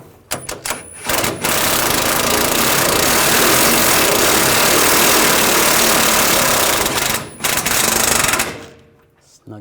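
Continuous loud whir of a power tool tightening parking assist sensor bolts on a 2014–2018 GMC Sierra 1500, running steadily for several seconds between short bursts at start and end, close up, no talking.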